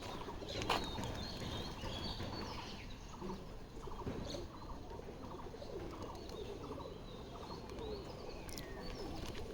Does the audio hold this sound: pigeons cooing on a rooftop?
yes